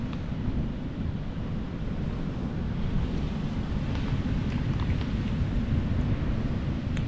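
Wind and ocean waves at the beach on Cape Lookout make a steady, dense, roaring wash with constant wind buffeting on the microphone and no let-up throughout.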